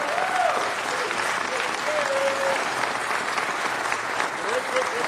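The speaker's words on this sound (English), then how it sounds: "Give him a round of applause" A city council meeting audience applauds to welcome back Bill Rosendahl, a dense sustained wash of clapping in a large chamber with faint voices and murmurs mixed underneath.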